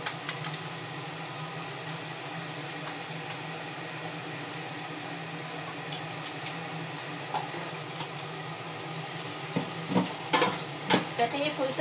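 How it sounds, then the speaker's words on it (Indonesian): Eggs frying in a pan in a home kitchen, a loud, continuous sizzle heard up close with a few utensil taps near the end and no voices. "Ini telurnya mau digoreng ya."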